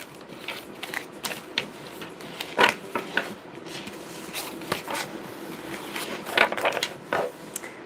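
A tarot deck being shuffled by hand gives soft, irregular riffling, clicking and flapping of cards, quiet and close, with no voices.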